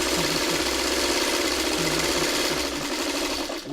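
A sewing machine stitches in a fast, steady mechanical whir with rhythmic clicking, running loud and close throughout and slowing slightly at the very end.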